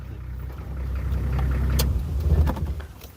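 A car rolls along close by, its engine and road rumble swelling and then fading out as it slows to a stop, with no one speaking.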